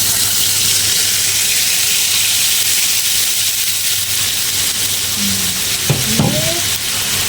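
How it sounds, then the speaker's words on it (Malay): Bakso spice paste sizzles steadily in hot oil in a home kitchen, a close, continuous fry with a brief clink of stirring near the end. "Kita tumis dia sampai dia agak garing"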